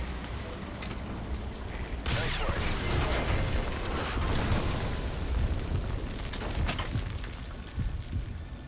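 An explosion in the video game Metal Gear Solid 5 during a tank battle, a loud sustained rumbling blast with debris crackle that swells after a couple of seconds and then slowly fades.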